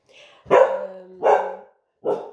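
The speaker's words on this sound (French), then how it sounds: "je vais laisser Marley aboyer" A dog barks close and loud, three sharp barks spaced apart, the first preceded by a soft whine.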